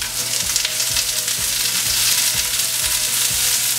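Onions sizzling in olive oil in a pan, a dense, loud, continuous hiss with faint regular ticking pops, close and steady throughout, no one speaking.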